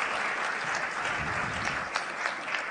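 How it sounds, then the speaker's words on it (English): Steady applause from an audience at a media awards ceremony for influencers, a dense continuous clapping that holds at an even level for the whole stretch with a few sharper individual claps. "can you clap louder for the people who are presenting?"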